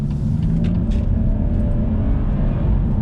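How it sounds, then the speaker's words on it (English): A BMW M240i straight-six with a Quicksilver valved exhaust pulls hard in second gear, a loud, steady low rumble running continuously from inside the car with no voices. "You can still hear that straight 6 sound"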